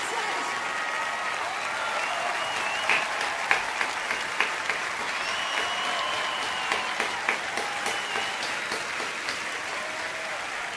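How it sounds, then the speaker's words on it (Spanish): A large awards-show audience at the Latin Grammy 2023 applauds steadily and loudly throughout, with a dense wash of clapping and scattered sharper claps and cheers, while musical tones ring faintly underneath. "Mira los hijos como aplauden"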